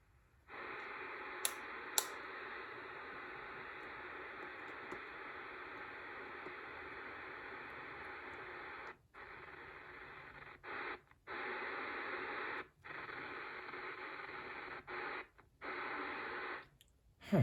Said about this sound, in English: It's just playing static no matter what I do with the squelch control.